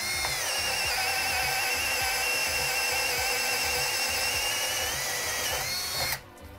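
Cordless drill driving a quarter inch by 6-inch lag screw, a steady loud whine that strains slightly as the screw sinks, then cuts off abruptly near the end; close-up with no talking.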